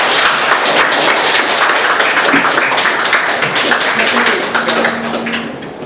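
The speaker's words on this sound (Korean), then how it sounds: "큰 박수 부탁드립니다." A ceremonial audience marking Korea's 70th liberation anniversary bursts into sustained, dense applause, a steady wash of many hands clapping that fades slightly toward the end, with a voice speaking over it.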